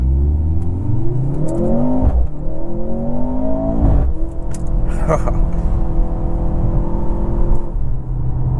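A 2023 Mercedes C43 AMG sedan engine revs up loudly through several rising gear pulls, each climb followed by a brief dip as it shifts, heard from inside the cabin.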